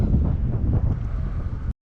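Steady gusting wind buffets the microphone with a low roar throughout, loud and close, while fishing on a river, then cuts off abruptly near the end.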